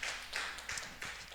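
Scattered clapping from a church youth group at a Sunday service, arriving in a few faint, short bursts that fade between waves.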